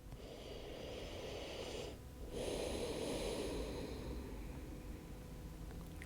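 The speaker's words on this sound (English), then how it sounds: "just breathe here in and out through the nose" Slow, quiet breaths in and out through the nose, one long steady airflow, a short pause, then another long breath, close and soft.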